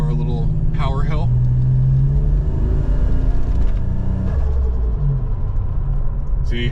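A 1986 Buick Regal T-Type's engine pulls hard while the car climbs a hill, a steady loud mid-range drone and rumble throughout, with someone talking over it.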